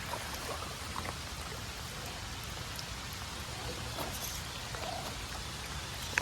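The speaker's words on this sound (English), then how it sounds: "the rain's really coming down now" Heavy rain pours steadily onto a muddy off-road trail, a dense constant hiss with scattered droplet hits and no voices.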